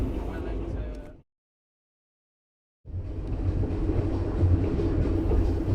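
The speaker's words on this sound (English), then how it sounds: "I went to bed as the train lurched and rattled into the night." A train lurches and rattles along the tracks at night with a steady rumbling clatter, cut by a brief stretch of silence before the rattling resumes louder.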